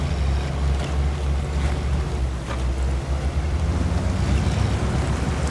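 A truck plunging into water in the off-road driving game SnowRunner, heard as a steady, loud low rumble and rushing wash of water that continues without a break for several seconds, with no talking over it.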